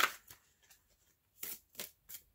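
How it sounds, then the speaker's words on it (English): Quick riffle-shuffles of a tarot card deck: a short burst, then three crisp ruffles in a row, close and fairly quiet. "Let's do 3 more shuffles."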